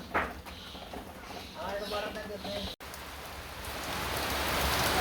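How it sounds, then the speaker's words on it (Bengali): Rain begins falling, a soft patter at first that swells into a steady wash of drops on surfaces, with a person talking early on. "এই যে বৃষ্টি শুরু হয়েছে একটু পর বৃষ্টি"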